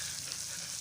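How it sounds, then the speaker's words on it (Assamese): Turi fish, a small local fish, stirred and frying in a pan, giving a faint, continuous hiss of sizzling oil with no talking. "এতিয়া আমি মাছখিনি অলপ লৰাই দিওঁ"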